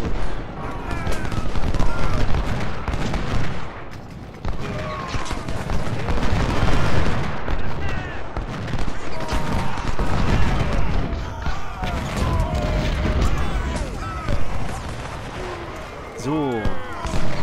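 Cannon and musket fire rage in the Civil War strategy game Ultimate General: Civil War at Gaines' Mill and Malvern Hill. Dense, continuous crackling volleys mix with heavy booming artillery, loud and unbroken throughout.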